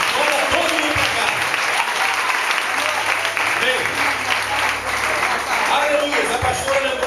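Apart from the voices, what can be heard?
congregation applauding in church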